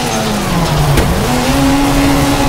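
Hyundai i20 WRC rally car in the WRC 4 video game on a gravel stage at Rally Argentina, engine droning steadily with a sharp handbrake-turn skid at one point, revs dipping then climbing again, loud and continuous without talk.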